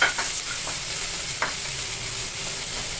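Chopped onion sautés in hot oil for spaghetti, giving a continuous hissing sizzle with a few light scraping stirs of a utensil against the pan.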